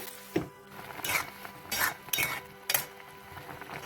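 A metal lid is set on a pot of Bengali-style green raw mango chutney, making several light clinks and short scrapes close by with quiet pauses between them and no talking.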